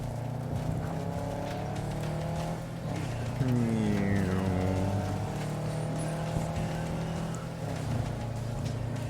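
A car driving in Cyberpunk 2077: a steady engine hum with rising and falling revving tones, continuous and close, with no talk over it.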